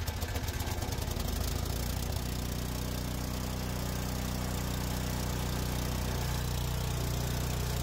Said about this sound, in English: The engine sounds like it's running well and is throwing snow.